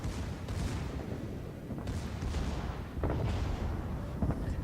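Battleship main guns firing in World of Warships, a Bismarck replay, with several deep booming salvos and rumbling blasts over a constant low roar of battle noise, fairly distant and subdued.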